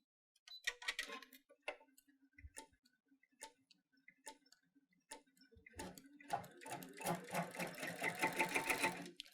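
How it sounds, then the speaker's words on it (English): An embroidery machine sews crochet-inspired embroidery after the bobbin thread is pulled up. A few isolated ticking stitches come first, then a quick, continuous rhythmic stitching chatter builds over the last few seconds, fairly faint overall. "You want to go ahead and start the stitching."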